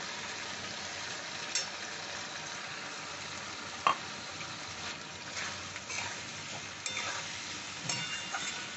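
Rice with banana stem sizzles and crackles in a hot pan for pulao, a soft steady frying hiss broken by occasional scraping stirs and light clicks.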